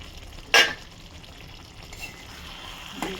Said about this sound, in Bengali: নাড়বো, একটু হালকা হাতে নাড়বো